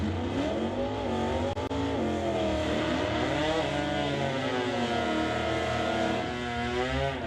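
1970 Plymouth Barracuda automatic Stock-class drag car racing at a drag strip, a loud continuous engine roar climbing through shifts as the car launches and pulls away.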